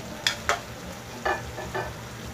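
Chili being added to chicken simmering in coconut milk, a few soft clinks and stirring scrapes against the pot over a quiet bubbling background, close and gentle with short pauses between sounds.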